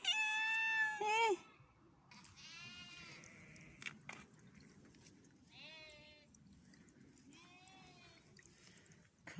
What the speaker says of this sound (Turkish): Burada da bir kedicik gördüm